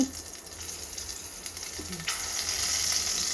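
Steady sizzling of capsicum and carrots frying in a hot pan, close and continuous, with a brief stir or clatter partway through.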